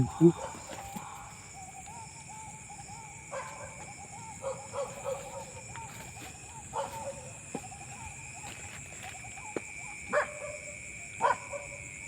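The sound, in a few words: dogs barking at night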